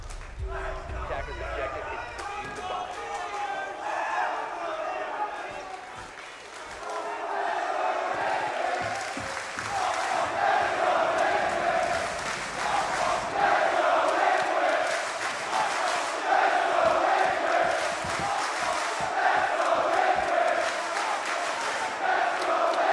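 A large crowd at a Rainbow Six esports quarterfinal in Manchester jeers and roars, a loud, swelling wash of voices building after a brief lull, with commentators talking over it.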